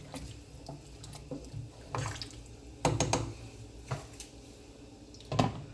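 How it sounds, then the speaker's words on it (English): Tap water runs into a sink while a spoon is rinsed during a Jamaican pepper shrimp cook, soft flowing water broken by several brief clinks and splashes, close by, with no talking. "Wash my spoon."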